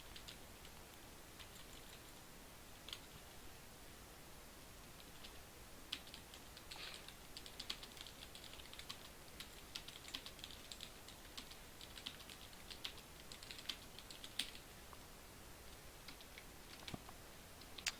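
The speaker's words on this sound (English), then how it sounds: "I'm just typing in the tweet that Twitch is supposed to be sending out right now" Someone types on a computer keyboard, producing a soft, steady stream of quiet clicks and taps at an irregular pace that runs throughout, with no talking.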